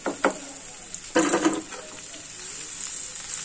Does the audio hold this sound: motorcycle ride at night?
no